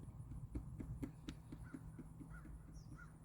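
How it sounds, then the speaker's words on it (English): Several crow caws ring out across a steady outdoor background, spaced loosely over a few seconds and fairly faint, with no talking. "The crow's laughing."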